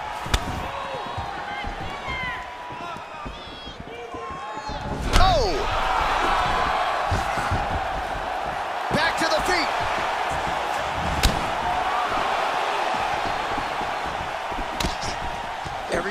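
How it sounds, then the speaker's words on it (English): Punches and kicks landing in an EA Sports UFC 4 bout between Conor McGregor and Stefan Struve, a few sharp thuds and slaps over a steady arena crowd roar, with commentary voices. "you just hear the punches and everything landing"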